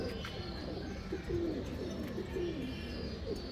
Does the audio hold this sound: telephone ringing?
no